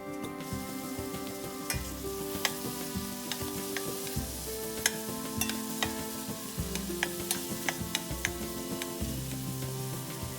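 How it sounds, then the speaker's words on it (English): Onions sauteing in olive oil in a pan over medium heat, a continuous close sizzle broken by regular scrapes and clinks of stirring, with no voices. "Add the onions and saute until translucent."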